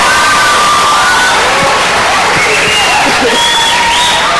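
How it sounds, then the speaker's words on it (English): A large crowd of students cheers and screams loudly without a break, with whoops and some clapping running throughout. "especially students, you guys should be screaming for this one, with Reggie and Shannon Berard."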